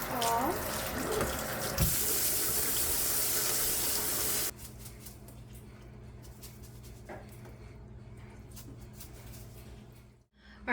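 Tap water runs hard into a sink as food is rinsed for a few seconds, then cuts off, leaving quiet kitchen room sound with light clatter.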